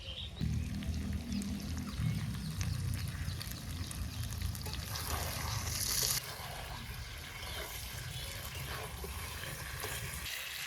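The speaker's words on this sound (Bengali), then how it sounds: "আলু দেওয়ার পরে কিছু সময় কষিয়ে নিলাম" Mutton curry with potatoes being sautéed in a pot for an outdoor picnic, giving a steady loud sizzle and frying hiss with stirring scrapes, continuous throughout and slightly softer in the second half.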